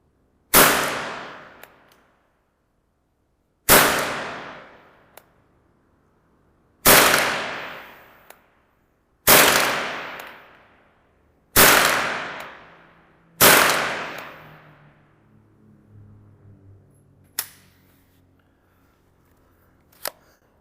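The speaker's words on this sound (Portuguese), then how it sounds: "estou atirando um pouco para baixo e à direita" A Remington Nylon 66, a polymer-stocked rifle, fires six sharp, loud reports at roughly two-second intervals, each cracking report trailing off quickly, followed by quieter handling clatter and a faint click.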